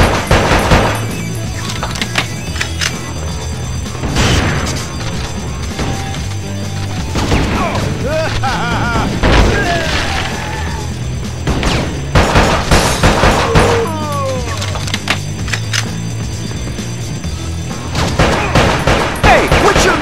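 Heavy gunfire and explosive booms from an action scene in the film Bad Boys 2, dense bursts with crashes and debris over a loud score, with some shouting mixed in.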